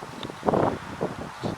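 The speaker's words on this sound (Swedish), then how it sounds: "Det där får ursäkta om det blåser lite grann." Wind gusts outdoors buffet the microphone beside a 2006 Ford Fiesta Mk5, producing soft, uneven rumbling puffs in several short bursts with no talking.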